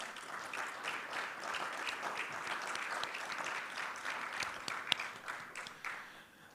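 Audience applause at the CARICOM Resilience Fund launch, a steady, fairly faint wash of many hands clapping that holds evenly for several seconds, with a few sharper claps standing out near the end.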